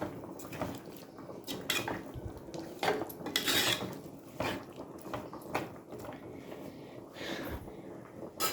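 A spoon stirs chili powder and turmeric through tomatoes in a metal cooking pot, giving steady scraping and clinking against the pan that carries on throughout at close range, with no talking.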